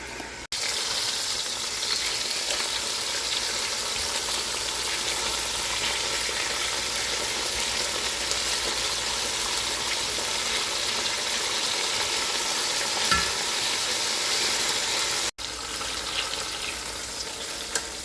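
Chicken pieces for adobo browning in a pan give off a steady, loud, close sizzle that runs unbroken for most of the stretch, with a brief stir or flip in the middle and no talking.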